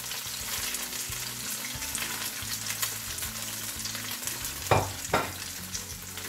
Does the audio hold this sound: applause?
no